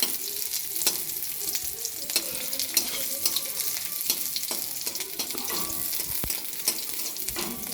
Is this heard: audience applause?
no